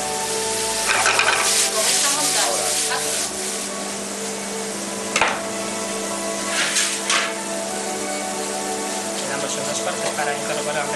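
Chopped celery sizzling and frying in a pan while being stirred, a steady bright hiss running throughout with occasional scraping stirs, close by.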